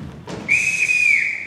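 A sharp, sustained whistle blown to summon children on a high school operetta stage rings out loud and steady for about a second after a short attack, with no talking.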